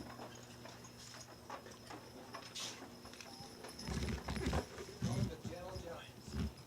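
Heavyweight draft horses, each weighing about 2,600 pounds, walk along with hooves clip-clopping in a steady rhythm, growing louder toward the end under crowd noise and nearby talk.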